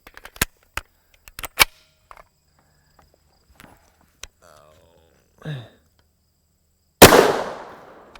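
A single sharp Winchester M1152 9mm gunshot fired into a body armor panel at a range, a loud close crack with a decaying tail near the end, preceded by faint clicks and handling noises.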